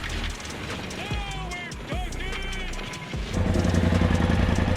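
Polaris RZR Turbo engine fitted with a Trinity Racing exhaust, idling and blipping through a few revs with a turbo blow-off whoosh, then settling into a loud, steady rumble near the microphone.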